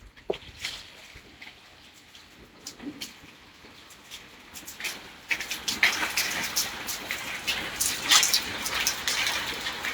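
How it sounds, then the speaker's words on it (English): Rain patters and splashes nearby, sparse at first and then heavier, with scattered drips and gusts of spray. "It's raining."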